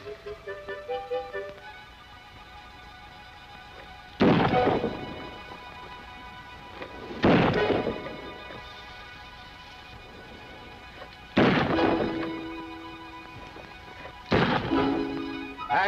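Four loud pistol shots at pine cones hung outdoors in the desert, spaced a few seconds apart, each a sharp crack with a short echoing tail, after a brief stretch of music.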